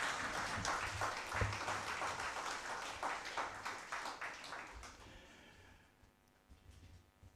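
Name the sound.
applause from audience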